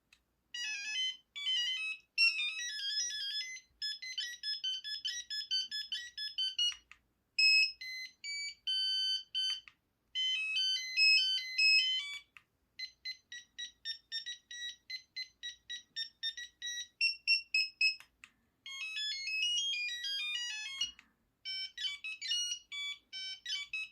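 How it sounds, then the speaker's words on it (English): A Kyocera KWC 2235 phone plays a polyphonic ringtone tune, bright electronic melody phrases repeating in bursts with short gaps, clear and alone with no talking. "Who would ever set this one as a ringtone"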